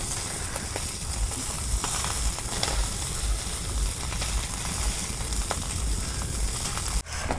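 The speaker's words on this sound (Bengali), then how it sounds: "মাছের নেজ ভাজতেছি" River fish frying in a pan of hot oil for village cooking, a steady close sizzle and crackle throughout with a brief clatter near the end.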